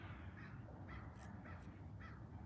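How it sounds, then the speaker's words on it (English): Crows caw outdoors, about four or five faint, distant harsh calls spaced roughly half a second apart over a steady low background hum. "You hear the crows talking to you?"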